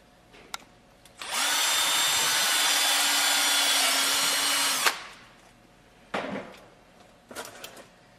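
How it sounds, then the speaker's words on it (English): A power drill whines steadily for about four seconds, loud and close, then stops; a few short scraping and tapping noises follow. "drill a hole in the side here so we can get to the servo horn screw."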